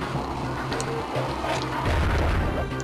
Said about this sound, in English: Watch out, the bomb's explosion can hurt you just as much as it can hurt him.